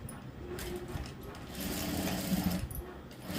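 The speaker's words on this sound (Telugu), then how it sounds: "ఫోల్డింగ్ పెట్టేసుకొని పైన ఒక కుట్టు వేసుకోవాలి." A sewing machine runs steadily, stitching a folded edge on a blouse neckline, a continuous close mechanical whir and hum lasting throughout.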